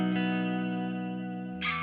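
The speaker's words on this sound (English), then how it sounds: "I'm just set clean on the katana with a little bit of reverb, and that's the neck pickup" An offset electric guitar on its neck pickup plays through a clean Katana amp with a little reverb: a single sustained chord rings out smoothly and decays slowly, heard alone.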